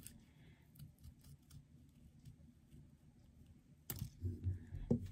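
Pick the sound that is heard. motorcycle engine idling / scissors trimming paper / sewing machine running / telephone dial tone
scissors trimming paper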